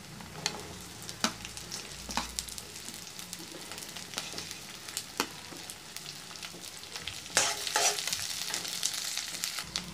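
Onion fries in a pan for ivy gourd manchurian, a soft steady sizzle broken by repeated spatula scrapes and clacks that stir the pan, with a louder hissing burst near the end.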